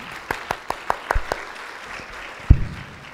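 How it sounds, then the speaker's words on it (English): An audience at an English language teaching conference responds with a few scattered, light claps in a short, uneven burst, followed by a single duller thud and then near quiet. "A little bit of clapping?"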